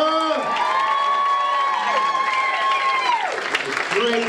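Comedy club crowd applauding and cheering after a stand-up set, loud clapping with whoops and shouts, mixed with a voice speaking over it.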